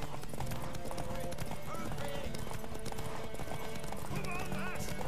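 Rhythmic hoofbeats clip-clop steadily in the video game The Witcher 3: Wild Hunt, under continuous game sound and voices, with a horse whinnying briefly near the end.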